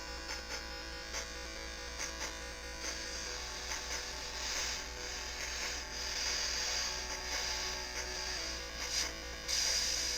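Crank of a Panic Playdate handheld console being turned, a steady faint mechanical ratcheting whir with soft clicks running continuously throughout, no talking over it.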